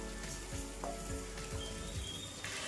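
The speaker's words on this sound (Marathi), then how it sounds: "आता आपल्याला हे सर्व साहित्य छान असं परतून घ्यायचं आहे मसाल्यांमध्ये." Masala khichdi ingredients sizzle steadily in hot oil and spices while being stirred, with a few soft scraping strokes of the spoon against the pan.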